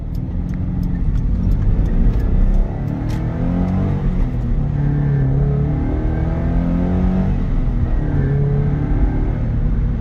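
A 2015 Subaru BRZ Limited drives along with a steady low engine rumble and mild revving as it shifts gears, heard from inside the car, continuous and moderately loud with no talk.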